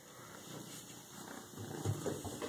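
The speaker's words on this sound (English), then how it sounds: "He's already purring" A kitten's soft, steady purring hums close by, rising slightly louder toward the end, with no voices.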